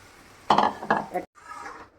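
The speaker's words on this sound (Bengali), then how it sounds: "এবার আমি ডালটাকে ঢেলে দেবো" Chana dal is poured into a pan of cooked meat masala with a loud close clatter and rush, then a short softer scrape and settle.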